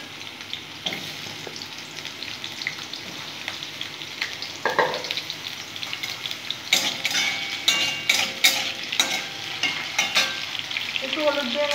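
Loud frying in a pan, a dense crackling sizzle that grows busier and sharper in the second half, with repeated clanks and scrapes of a spatula stirring.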